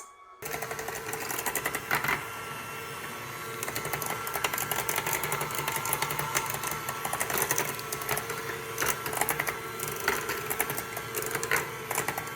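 An electric mixer runs at medium speed, creaming butter and brown sugar in a bowl. It gives a steady close motor drone with a dense rattling texture and faint irregular knocks of the beaters, and no talk over it.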